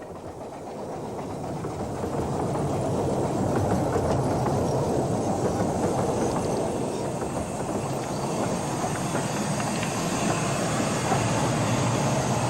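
Little Mikado locomotive River Esk running on the narrow-gauge Ravenglass and Eskdale Railway, a steady continuous rumble of wheels and engine close by, holding level for the whole stretch without pause.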